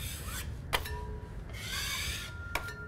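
A knife blade scraping the raised plaster edge off a plasterboard joint, soft rasping strokes close up with a couple of sharp metallic clicks, quiet and alone.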